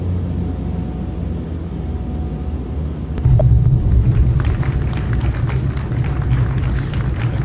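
A Flysimware C414AW twin-engine aircraft in Microsoft Flight Simulator rolls along a bumpy runway. A steady low engine drone becomes louder at about three seconds, when a heavier rumble with rattling jolts takes over and continues to the end.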